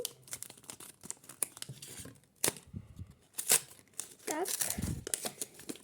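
A paper sticker packet being opened, with crinkling and tearing of paper in quick bursts up close, mixed with a child's and an adult's voices talking.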